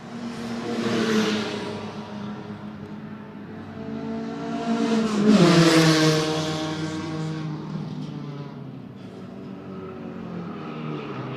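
Historic race cars sweep past on a circuit with a dusty dirt verge, engines swelling as they approach and fading as they go by, two cars running close together in mid-race, loud and near.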